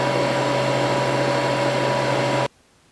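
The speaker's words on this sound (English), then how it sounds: "The background noise you're hearing is Melissa's freeze dryer going." Freeze dryer running nearby, loud and close with a steady whirring hum and a constant tonal whine that cuts off abruptly after about two and a half seconds, leaving near silence.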